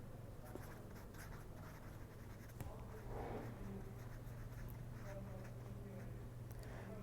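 Chalk or marker strokes on a board during a lecture on memoryless modulation, faint scratchy taps and scrapes over a steady low room hum, with no speech.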